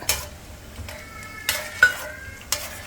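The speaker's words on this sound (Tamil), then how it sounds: "நெய்யில் வந்து நல்லா கேஷ்யூ நட்டை போட்டு வறுத்துக்கிட்டு இருக்காங்க" Cashew nuts roasting in ghee for kesari, stirred in a pan, giving a soft steady sizzle broken by a few sharp clinks of a spoon against the pan, with no talk.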